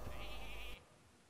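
Sheep bleat from the Hearthstone polymorph spell, one short wavering game sound effect lasting under a second, loud and clean, then cut off abruptly into near silence.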